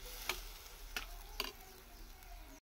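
Vegetables cooking in a pan give a faint, steady sizzle, broken by three sharp utensil taps against the pan at about one-second intervals, with no voices.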